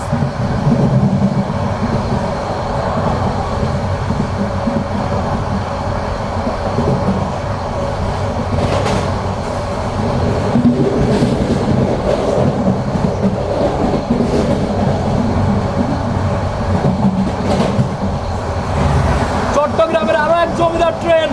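The intercity Subarna Express rumbles steadily in the dim light, a loud continuous rolling of wheels on rails with clacking carriages and voices mixed in.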